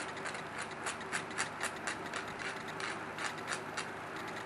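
An obsidian flake's edge is ground during flintknapping, giving a rapid, rhythmic scratchy rasp that repeats steadily and sits close and fairly quiet.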